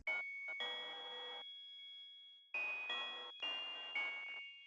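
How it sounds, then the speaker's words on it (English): Bright music-box xylophone tones with added effects, ringing in several sustained bursts separated by short gaps, with chime-like tones repeating in a steady pattern and no voices. "I added in this music box xylophone kind of sound."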